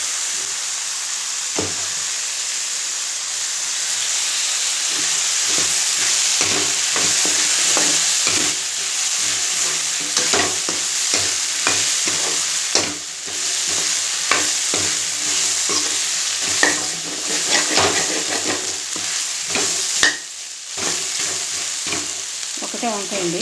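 Eggplant, a single home-grown one, frying in a pan for a drumstick curry, with a steady sizzle throughout and repeated scraping clicks of a spoon stirring the pieces, no talking.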